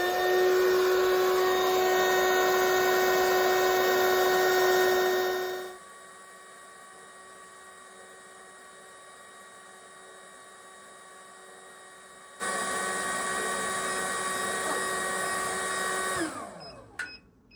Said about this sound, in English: We also have a fan that's plugged into our Arduino to help exhaust the air out of the top